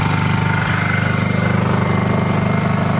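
A Honda 2000i inverter generator runs at a steady idle, a continuous close engine drone with an even pulsing beneath it and no talking.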